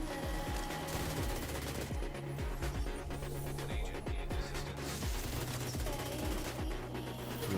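Continuous automatic gunfire in The Division 2 rattles on for several seconds, loud, close and rhythmic, with repeated heavy shots and a dense battle backdrop, no speech heard.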